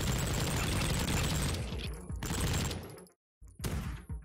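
Submachine gun fire in the retro shooter Project Warlock, fast rattling bursts that run loud and continuous, then break into shorter volleys separated by abrupt silences.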